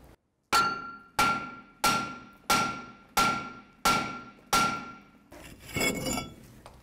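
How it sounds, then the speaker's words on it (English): Seven sharp, ringing hammer strikes on a seized brake rotor of a 1984-2001 Jeep Cherokee land at a steady rhythm, each fading quickly, followed by a scraping clatter. Close and loud. "It's kind of frozen on there before I hit it with a hammer."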